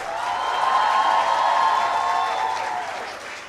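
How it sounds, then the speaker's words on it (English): A convocation audience applauds in a large hall, a sustained wash of many hands clapping that swells, holds for a few seconds and then fades, with no talk over it. "a big round of applause for your parents"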